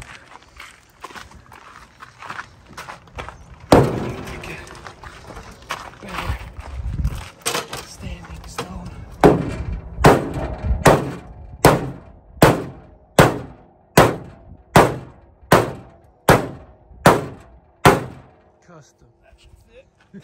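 A big hammer pounds metal to clear space for an 80mm turbo on a first-generation Cummins diesel, with scattered knocks giving way to a steady run of about a dozen loud, evenly spaced blows.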